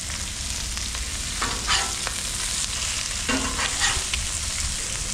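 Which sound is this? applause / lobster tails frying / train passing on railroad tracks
lobster tails frying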